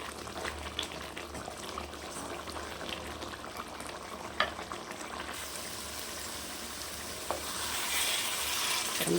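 Grated coconut frying in oil gives a continuous soft sizzle and bubbling, with occasional stirring clicks and a louder rush toward the end.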